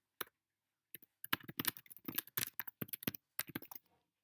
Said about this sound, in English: and you just type in here